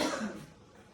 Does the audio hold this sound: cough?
yes